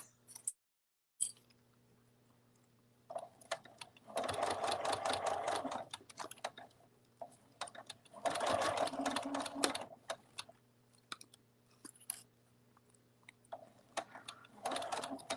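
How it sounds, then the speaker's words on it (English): A sewing machine stitches a cuddle bunny toy in a few short bursts of rapid needle clatter, separated by quiet pauses with light handling noises. "And we're just sewing around"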